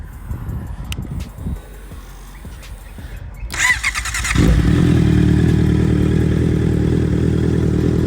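A Honda CBR650 motorcycle cranks and fires up after some faint background clatter, then holds a loud, steady, close throbbing run.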